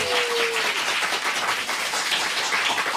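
A studio audience at a live public political talk-show broadcast applauds three National Assembly members, with steady, dense clapping throughout and no talk over it.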